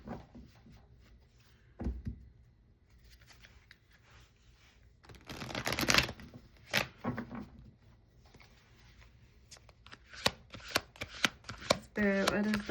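Tarot cards are shuffled and drawn by hand, with soft riffling, flicks and sharp slaps of cards, sparse at first and then busier and louder near the end.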